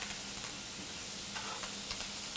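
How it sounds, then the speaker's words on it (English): Garlic cloves sizzle in a hot pan, a dense, constant hiss and crackle heard close and alone, with light scrapes of stirring. "I'm gonna add in my garlic. I'm adding in about 5 cloves of garlic. You hear it?"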